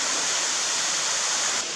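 Steady, dense rush of a misty waterfall at Hocking Hills State Park, heard at close range as an unbroken broadband roar with no voices.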